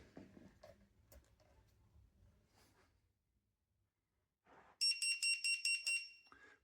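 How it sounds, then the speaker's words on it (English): An iFlight YR50B drone finder's 100 dB buzzer, triggered by a momentary switch, gives about six loud, shrill pulsed beeps in quick succession after a few seconds of quiet handling noise. "I get a 100 decibel buzzer"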